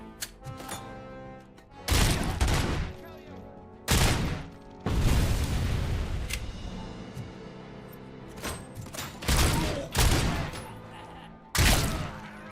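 Gunfire in the Robocop Rogue City video game: several sharp, loud bursts of shots and heavy thuds spaced a second or two apart, with quieter gaps and echoing tails between them.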